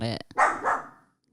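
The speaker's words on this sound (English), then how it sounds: "staring into the hallway, barking at something" A dog barks into a dark hallway in a house, giving a couple of sharp close barks right after a voice, then falling quiet.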